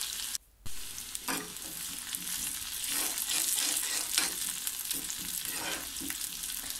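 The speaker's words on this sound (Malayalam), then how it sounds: "അതിലേക്ക് ഞാൻ ഒരു മൂന്നോ നാലോ ചുവന്നുള്ളി വട്ടത്തിലരിഞ്ഞത് ഇട്ട് കൊടുത്തിട്ടുണ്ട്." Three or four sliced shallots fry in hot coconut oil as a tempering for raw plantain curry, giving a continuous close sizzle with brief stirring scrapes and crackles and no speech.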